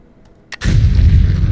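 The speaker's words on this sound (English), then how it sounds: "Let's throw some bombs about." Bombs detonate in the video game Aeternus: a faint thump, then a heavy, loud blast at about 0.6 seconds that rolls on as a dense, sustained rumble to the end, with no voices.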